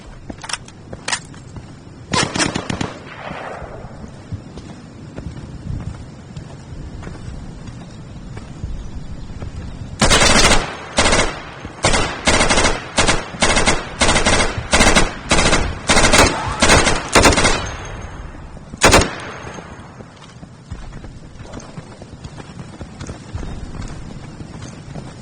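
M4A1 assault rifle in the video game Insurgency fires a few scattered shots early on, then a long stretch of rapid bursts and a final single shot, all loud and close, with no talking.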